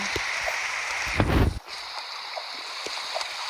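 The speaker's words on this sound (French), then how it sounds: "Non mais il pleut chaque jour là." Steady hiss of rain in a video game set in a forest fills the scene, with a brief louder rush of water partway through and scattered faint taps.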